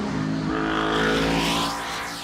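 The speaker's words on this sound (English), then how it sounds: "Great sounds out of that car as well." A race car drives at speed around the Road America circuit during a GRIDLIFE Summer Apex event, its engine a loud, sustained roar close by that eases off slightly toward the end, with no voices.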